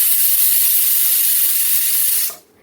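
A pressure cooker lets out a loud, continuous hiss of escaping steam close by. The sound holds steady for over two seconds, then cuts off abruptly.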